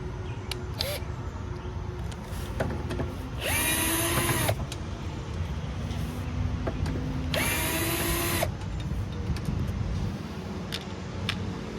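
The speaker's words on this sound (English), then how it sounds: "So I just took those 5/16 inch nut driver screws off." A power driver spins out 5/16 inch screws from a box on an RV, giving two separate whirring bursts about four seconds apart over a low steady background hum, with small clicks between.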